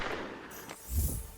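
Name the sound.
gunshot jump scare sound from a stream donation alert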